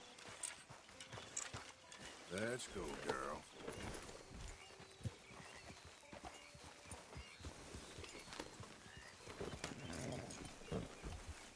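Horse hooves clip-clop steadily in a Red Dead Redemption 2 scene, with a few spoken lines and background game sounds over the rhythmic steps.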